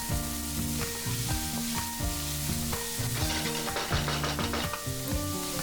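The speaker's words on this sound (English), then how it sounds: "Add 3 chopped onions and fry this for about 2 minutes." Chopped onions fry in hot oil in a pan, a steady sizzle running through the whole stretch beneath louder rhythmic background music.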